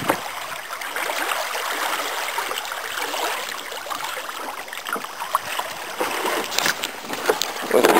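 Windrider boat cruising at about five knots toward Nidia Bay, a steady rushing and trickling of water along the hull with splashy bursts, close and continuous, with no talking.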